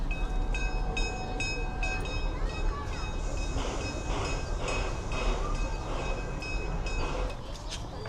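A zoo train runs near the zebra exhibit at Omaha's Henry Doorly Zoo, a steady rumble with rail clatter and tonal squeals, heard outdoors over continuous ambient noise with people nearby.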